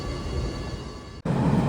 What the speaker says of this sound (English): We're now gonna take the commuter train to Songshan train station